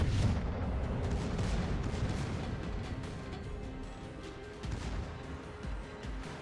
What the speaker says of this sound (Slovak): sekundárky strelajú